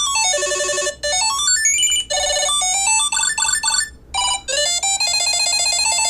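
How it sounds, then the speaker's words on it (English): Tile Bluetooth tracker ringtone tones playing in quick succession, bright electronic melodic beeps and arpeggios with short gaps between patterns, loud and close with no talking. "You can actually change the ringtone out to different ringtones."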